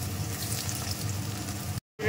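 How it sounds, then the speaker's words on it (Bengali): Potatoes for crispy fries sizzle in hot oil in a wok, a close, dense crackling hiss that stops abruptly near the end and then resumes. "এদিকে দেখো আমি ভাজছি কুরকুরে আলু ভাজা।"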